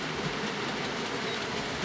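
A model railway train running around a layout track toward a helix gives a steady, continuous rolling rumble with fine rail clatter, sustained at a moderate level throughout with no talk.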